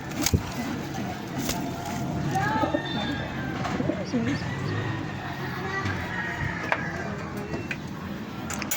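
Soft, low pigeon coos repeat amid a busy background of shuffling, clatter and distant noise.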